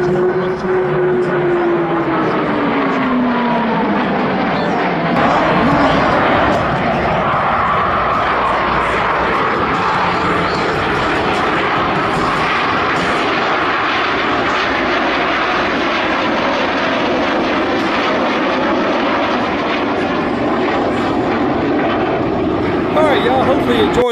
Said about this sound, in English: It was an awesome air show, man.